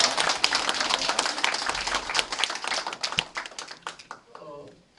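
Audience applause for a former acting president at a political evaluation and election strategy meeting: dense clapping from a crowd fills the first four seconds, then thins out and fades as a voice begins to speak.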